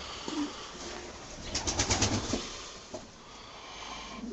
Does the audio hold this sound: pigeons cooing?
yes